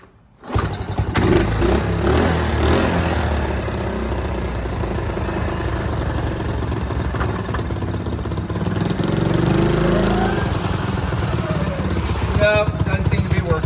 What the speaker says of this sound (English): Let's start the bike.